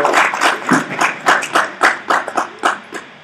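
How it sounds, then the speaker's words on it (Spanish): After a talk on diagnostic and therapeutic angiography, a small number of people clap in a loud, close, distinctly separated series of about a dozen claps, each with a short gap between them. "Un aplauso nuevamente"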